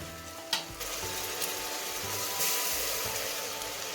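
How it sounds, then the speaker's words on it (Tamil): Steady sizzling of tomatoes frying in a hot pan, with a sharp scrape of stirring near the start and faint clinks throughout. "இதையும் நல்லா கிளறி விட்டுடலாம் தக்காளி தோல் வதங்கி வர்ற வரைக்கும்"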